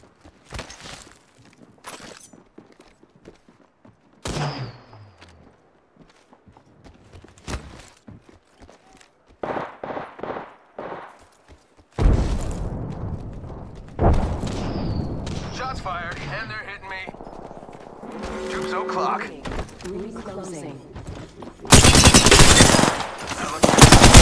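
Bursts of automatic gunfire and single shots from a battle royale video game, with footsteps and chaotic in-game effects, loud and intermittent, ending in a dense, loud burst.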